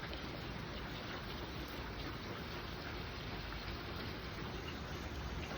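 Steady rain falls outdoors on a yard with toys and a blanket left out, an even, continuous hiss with no voices.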